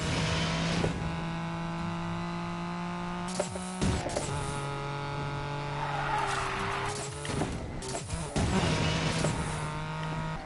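A Honda NSX engine in the racing game Need for Speed Payback, with a steady droning engine tone that shifts pitch through gear changes while tires squeal and skid around corners.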